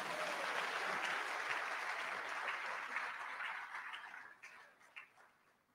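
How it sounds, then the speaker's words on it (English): Audience applause fills a hall during an induction ceremony for newly qualified medical and dental practitioners, a steady wash of many hands that gradually thins and fades toward the end. "I guess I also deserve some round of applause."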